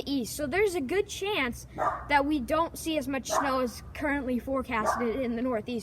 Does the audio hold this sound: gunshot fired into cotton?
no